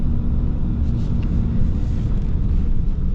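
A 2025 AEV Prospector XL truck engine under light throttle produces a loud, steady, deep rumble that holds evenly throughout, close up and with no voices.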